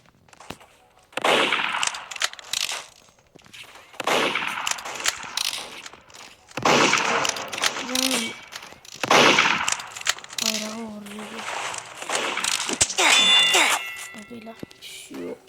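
Game gunfire in Roblox comes in repeated bursts of synthetic shots and mechanical clicks, with excited talk running over much of it.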